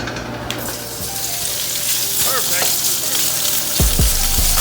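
Chinese sausage (kun chiang) fries in a hot pan with a little oil, giving a steady close sizzle and crackle throughout, with a few louder pops and scraping clatters near the end.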